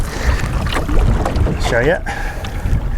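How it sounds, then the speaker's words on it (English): Gusty wind buffeting the microphone and choppy water slapping a boat hull while crossing a windy lake, loud and close, with someone speaking briefly over it. "So it got quite a bit more windy."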